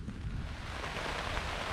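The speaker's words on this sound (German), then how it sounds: "Und es regnet wieder." Steady rain falls outdoors as a thunderstorm passes over hilly Czech countryside on a bicycle tour, a dense, continuous hiss with low rumbling wind noise throughout and no talking.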